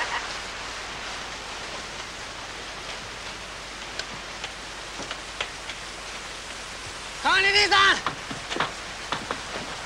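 Rain falling outdoors, a soft constant hiss with scattered drips, heard under a voice and a brief higher-pitched call.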